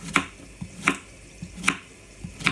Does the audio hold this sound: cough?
no